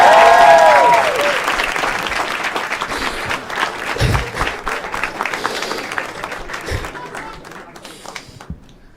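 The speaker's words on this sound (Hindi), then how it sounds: "एक बार जोर तालियां भाई के लिए यार" Loud audience applause at a live show in India, a dense wash of clapping with a few cheers at the start that gradually thins and fades toward the end.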